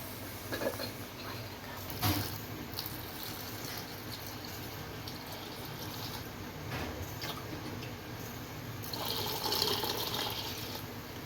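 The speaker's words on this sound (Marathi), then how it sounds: "आता ह्या पोह्याला आपण 2 ते 3 पाण्याने स्वच्छ धुवून घ्यायचं आहे." Flattened rice (poha) is rinsed in water in a kitchen, with steady sloshing and swishing throughout and a few louder splashes, heard up close and without speech.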